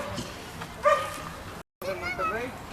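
A dog at an outdoor tracking and obedience event gives a short yip or whining bark amid background talk and crowd noise, with a brief dropout partway through.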